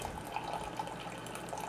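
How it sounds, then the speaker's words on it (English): Hamilton Beach FlexBrew programmable single-serve coffeemaker brewing, a steady close trickle of hot liquid pouring into a mug with faint drips, continuous and even, no talking. "And here's the coffee brewing."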